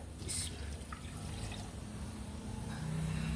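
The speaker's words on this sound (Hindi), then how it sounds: "अब इसके अंदर ऐड कर देंगे सॉस पैन के अंदर, और 1 कप आपने इसमें पानी ऐड कर देना है" Water is poured into a saucepan holding jaggery in a home kitchen, making a soft, continuous splashing trickle at low volume with no speech over it.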